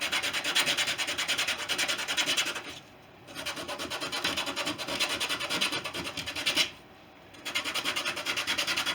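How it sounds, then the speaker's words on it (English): A plywood surface for a Fisher Youngster V wing is sanded across the grain with 80 grit sandpaper, giving close, rhythmic rasping strokes broken by two short pauses. "Then 80 grit. I'm just going to go across the whole surface."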